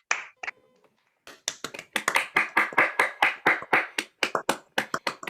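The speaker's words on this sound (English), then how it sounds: "contestants, unmute yourselves and join me in applauding" Applause from several contestants clapping at once over a video call on a comedy panel game show, a dense run of sharp claps that starts after a short pause and continues steadily to the end, close and fairly loud with no talk over it.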